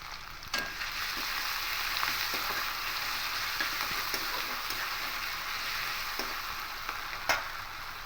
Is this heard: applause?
no